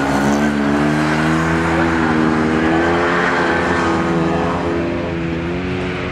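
An MGB race car at full throttle in qualifying, a loud sustained engine roar with a steady buzzing tone that holds for several seconds, close by with no talking.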